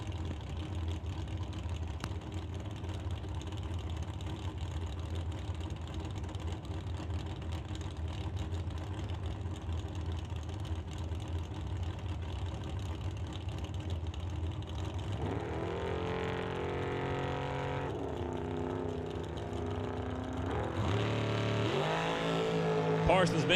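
Drag race cars launching at an NHRA Summit ET bracket race, a Roadster against a Duster, with a steady crowd and track rumble giving way to loud rising engine roars near the end, under an announcer's talk.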